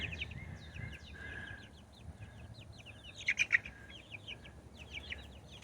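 Many small chicks peeping in a busy, overlapping chorus of high chirps, with a brief louder flurry near the middle against a low background hum.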